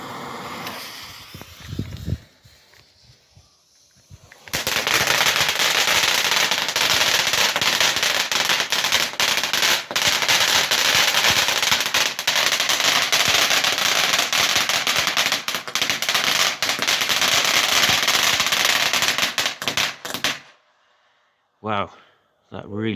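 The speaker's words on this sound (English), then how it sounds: "the next one is a fountain battery, and it's the opposite effect to the one we lit up" A Zeus Fireworks fountain battery holding 20 grams of NEC erupts outdoors, a sustained dense crackling and snapping roar lasting about fifteen seconds after a quieter start, then cutting off to brief voices nearby.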